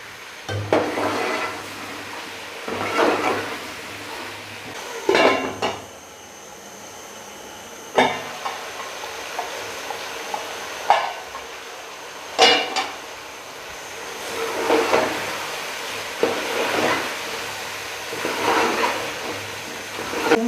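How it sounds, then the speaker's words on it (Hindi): Water goes into a pan of frying potatoes and masala for aloo wadiyan, bringing a hissing sizzle along with repeated clanks of a utensil against the pan, all close and fairly loud. "मसाला नीचे लग रहा है तो इसमें मैं थोड़ा सा पानी डालती हूँ।"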